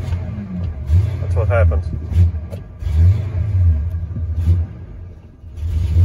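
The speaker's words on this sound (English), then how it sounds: "So truck's idling fine. If you throttle it easy, it throttles up just fine. But if you get on it," A Ford Triton V8 truck engine with low fuel pressure revs in uneven surges that sag and stumble, loud and near, with a short spoken question partway through.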